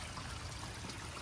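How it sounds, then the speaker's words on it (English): Water trickling from a small pondless garden waterfall in a backyard, a faint, steady wash of splashing and dribbling with no pauses and no voices. "So I just wanted something with a little bit of sound of water back here"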